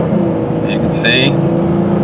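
Silver 2003 Pontiac Grand Prix SE with an automatic transmission accelerating on the road, a low, smooth engine hum building under someone talking close by.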